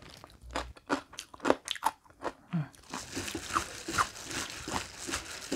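Crisp, crunchy chewing of seasoned oiji, Korean pickled cucumber, with a steady run of close, loud bites and mastication over several seconds and no talking.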